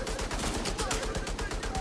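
Rapid, relentless gunfire from The Division 2 video game, a dense stream of closely spaced shots firing in a steady automatic rhythm at constant loudness.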